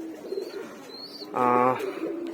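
Kaldom bloodline pigeon chicks give a single loud, throaty coo-like call in the middle, with faint chirps before it and a low background hum.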